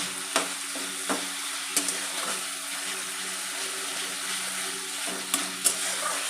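A steady, moderately loud sizzle of chicken being sautéed with spices for egg chicken tarka, with occasional sharp knocks and scrapes of a spatula against the pan.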